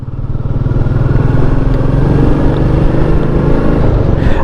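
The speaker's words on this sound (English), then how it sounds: "I love the little roar that it gives" A Royal Enfield Meteor 350 motorcycle with a stock exhaust rides along by the sea, its engine giving a loud, steady, throbbing roar close by with no break and no voices.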